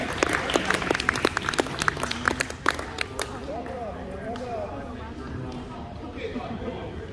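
An audience clapping, a short scattered burst of handclaps in the first few seconds that fades out as people start talking.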